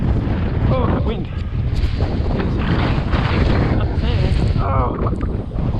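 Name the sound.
wind blowing, wind noise on microphone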